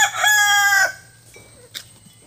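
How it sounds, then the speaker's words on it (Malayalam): A black fighting rooster and a native village cock, one crowing loudly and close for nearly a second with harmonic, drawn-out calls, followed by quieter clucks and a short sharp call in a calm farmyard. "ആ മുകളിൽ നിൽക്കുന്ന കറുപ്പൊരു പോരു കോഴിയാണ്, താഴെ നിൽക്കുന്നത് കൈരളി, അതൊരു നാടൻ പൂവാണ്"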